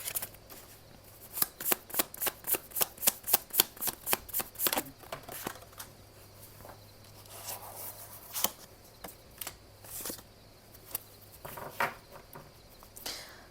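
Tarot message cards are shuffled by hand: a rapid run of crisp papery flicks at first, then slower, scattered card slaps and taps, close and quiet with no voices.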